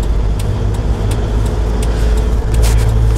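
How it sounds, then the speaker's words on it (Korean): A car engine drones loudly and steadily from inside the cabin while it pulls up to speed in fourth gear during a driving lesson, a constant low rumble with road noise and no talking. "속도 올리고. 4단. 엑셀 밟고"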